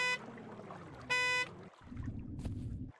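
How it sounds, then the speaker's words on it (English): Car horn in the video game Amazing Frog, two short bright honks in quick succession, followed by a low rumbling engine-like drone. "I have a honk button."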